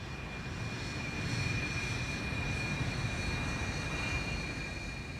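A jet fighter roars overhead in a steady, broad engine rumble with a faint high whine running through it, holding at a moderate, fairly distant level the whole time.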